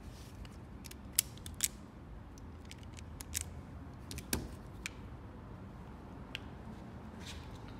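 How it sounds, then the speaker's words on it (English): Wire strippers cut and pull insulation off electrical wire during soldering prep, producing a few sharp clicks and snips scattered over a steady low room hum, with no voices. "if you've got wire strippers, nice and easy, you can go ahead and strip that wire"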